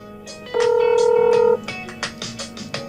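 A smartphone signals an incoming call with a sustained electronic tone lasting about a second, followed by several short bright beeps and taps, fairly loud and close.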